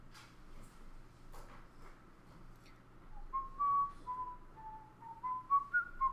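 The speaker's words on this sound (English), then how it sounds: "it's my Arabian Nights whistle" A teacher whistles a tune in a classroom, a clear melodic line of sustained pitched notes that starts after a few quiet seconds with soft room sounds and grows louder toward the end.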